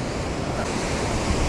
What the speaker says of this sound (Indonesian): Alun kala tidak besar sangat.